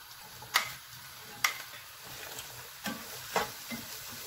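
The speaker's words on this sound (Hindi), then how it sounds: "पांच से सात मिनट प्याज को भूनना है।" Chopped onions fry in cooking oil in a pan on a gas stove, a soft steady sizzle broken by a few sharp crackles and pops, close and alone.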